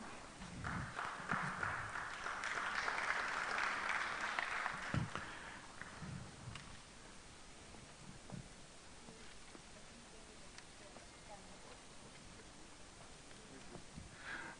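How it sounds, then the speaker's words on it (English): Audience applause at a Nairobi City County climate action plan event, a burst of clapping for several seconds that fades, leaving faint room noise and scattered thumps. "Let's give him a big round of applause"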